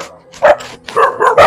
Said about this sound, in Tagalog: Sinasalubong tayo ng aso ng kapitbahay ko.